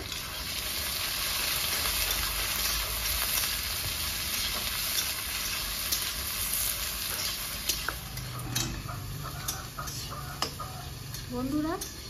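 Chopped onions sizzle and fry in a pan with whole cumin, a steady close crackle that runs throughout, joined later by a few light ticks and clinks of utensils while a person talks.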